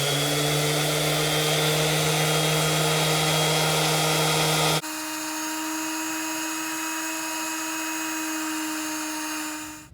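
An electric sander on a wooden shelf drones steadily and loudly, its pitch changing partway through, then the sound winds down and cuts off at the end.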